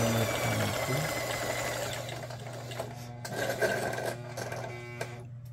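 A little-used domestic sewing machine stitching a decorative pattern, with a steady mechanical whir and a low motor hum running throughout, close and even, with faint clicks toward the end.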